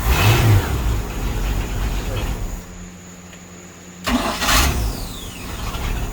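A Mercruiser inboard engine on a Stingray cuddy boat cranks, catches and settles into a rough, lopey idle, with a loud revving burst at the start and again near the end.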